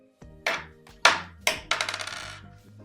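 A Dcubed nano release nut actuator fires after a button press, producing a series of bright metallic clinks and pings, like a small part dropping and bouncing on a hard surface, close and alone.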